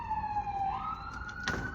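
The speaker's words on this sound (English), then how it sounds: "the ambulance" Ambulance siren wailing as it passes, a rising, sliding tone heard steadily through the clip with traffic rumble below and a sharp knock near the end.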